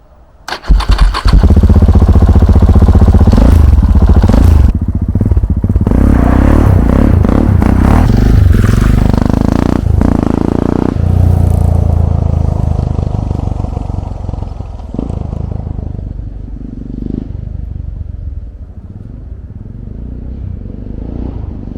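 A KTM 690 SM LC4 single-cylinder motorcycle cranks, catches and bursts into a loud, close, rough rev, then settles to a steady idle that slowly quietens, with mechanical clatter and no talking.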